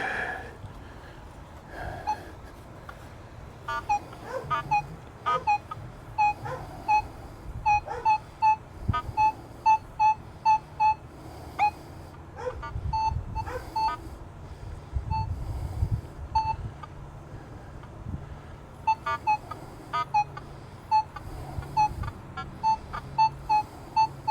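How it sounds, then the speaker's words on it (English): A Nokta Legend metal detector swung over a dig hole with nails still buried, giving short repeated electronic beeps in bursts amid handling noise and breathing, close by. "So let me swing the detector over it."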